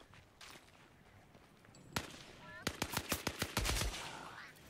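A green gun called the Rattler fires in the video game Scavengers, first one sharp shot and then a quick burst of loud, closely spaced rounds after some quiet rustling.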